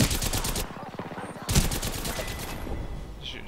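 Rapid automatic gunfire in the shooter game Apex Legends, dense repeated shots in two bursts, loud and close, with faint talk underneath.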